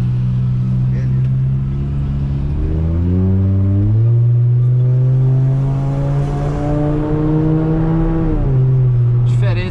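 A Volkswagen Jetta five-cylinder with a straight exhaust accelerates on a highway, a loud droning engine note rising in pitch through several gear changes, close and continuous throughout.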